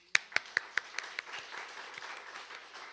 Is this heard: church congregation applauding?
yes